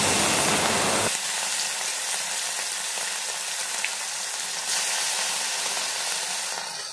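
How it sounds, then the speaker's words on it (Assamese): Marinated prawns frying in hot mustard oil in a kadai: after a brief rush at the start comes a loud, steady hiss and crackle of sizzling oil, close and unbroken throughout, with no talk. "এতিয়া মই সানি ৰখা মিছা মাছ মই ভাজি ল'ম।"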